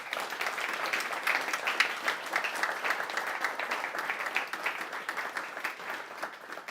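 A crowd applauds steadily throughout at a fireside chat event, dense clapping that holds at an even level before easing slightly near the end.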